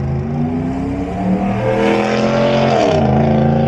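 A car engine revs loudly and continuously, its pitch climbing and shifting as it accelerates, close and dominant with no other sounds.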